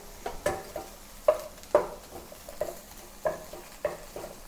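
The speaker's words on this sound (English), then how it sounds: "Add a little bit more oil into the pan to saute the dry shrimps." Dried shrimp sautéing in oil in a pan for a Cantonese fuzzy melon dish, soft sizzling under a series of regular light scrapes and taps from a spatula, close and fairly quiet.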